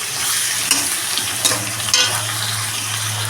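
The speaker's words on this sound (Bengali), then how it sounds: "এবার ভালো করে কষিয়ে নেবো একটু" Dry spices, Kashmiri red chilli powder and cumin powder, are stir-fried with potatoes and rohu fish in a hot pan, making a steady close sizzle with scraping stir strokes and a low hum underneath, no talking.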